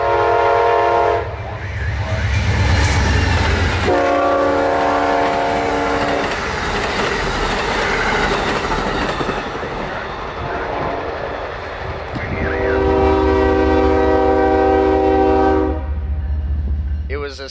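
Amtrak 91 passenger train passing nearby, loud and close, with several long blasts of its multi-tone horn over a heavy rumble and rail clatter.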